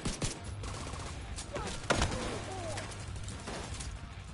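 Rapid gunfire from a deployed turret in The Division 2, bursts of sharp shots crackling over game ambience with a louder crack midway.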